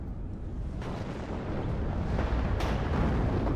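Artillery in the WARNO strategy game, including 2A3 guns, fires in a dense continuous rumble of booms with sharper blasts near the middle and the end.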